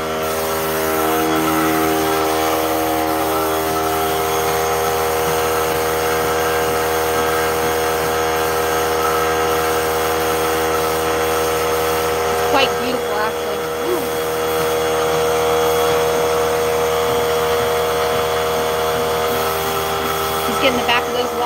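A Critter sprayer driven by a steady compressor hum sprays polyurethane onto furniture, a continuous loud droning hiss running unbroken throughout, with brief faint clicks near the middle and end.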